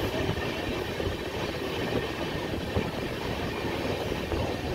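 The 12368 Vikramshila Express runs on its rails with a steady, close rolling rumble and rattle of wheels and carriages, continuous throughout with no voices.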